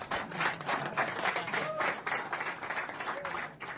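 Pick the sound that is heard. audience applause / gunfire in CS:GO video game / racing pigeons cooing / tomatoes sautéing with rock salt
audience applause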